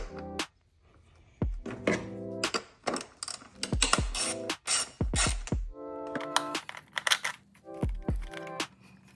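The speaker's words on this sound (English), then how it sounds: "Loosen and remove these 4 bolts that are holding the coils using a 10mm socket." Clicking ratchet and metallic clunks as a 10mm socket loosens the ignition coil bolts on a 2016-2021 10th-generation Honda Civic engine, with close, loud bursts of rapid ratcheting separated by short pauses.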